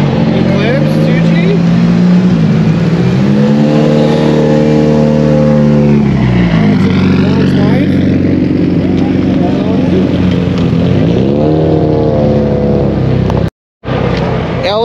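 LS3 Corvette engine swapped into a car at a car show, revving repeatedly with rising and falling engine pitch, loud and close, with a brief silent gap near the end.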